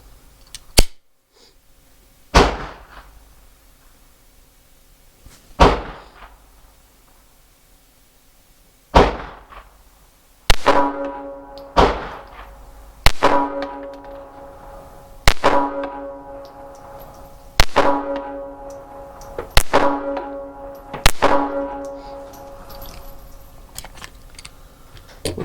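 A Glock G42 pistol fires a six-round magazine outdoors: sharp, loud single shots spaced a second or two apart, first a few sparse reports, then a steadier rhythmic string of cracks with ringing tails.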